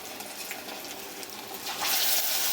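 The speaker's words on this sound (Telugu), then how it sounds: "కొంచెం పిండి ముద్ద తీసుకుని దాన్ని ఒత్తుకుని మధ్యలో చిన్న హోల్ చేసుకుని మనకు కాగిన నూనెలో వేసేసుకుంటున్నాము" Garelu batter, pressed flat with a small hole in the middle, goes into hot oil and fries with a steady close hiss that swells into louder, bright sizzling near the end.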